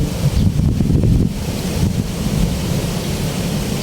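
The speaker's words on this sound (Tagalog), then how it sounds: "Kahit medyo mainit ang panahon ay mahangin naman." Strong wind roars and buffets the microphone with a steady low rumble, gusting harder at the start, with no other sounds.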